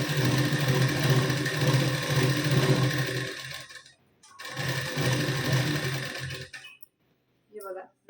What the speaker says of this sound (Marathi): आता मी डबल शिलाई देऊन घेते यावर.